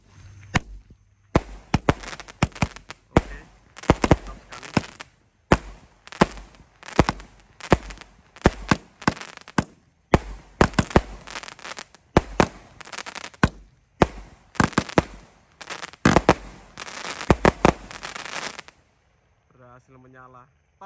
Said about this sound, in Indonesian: Kita lihat 25 shot Roman Candle.